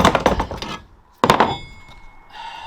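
A bag of filthy debris lands with two sharp thuds on the load bed of a Ford Transit Connect van, followed by faint rustling and quiet settling sounds.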